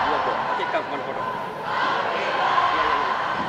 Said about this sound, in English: It's great to see, to hear this crowd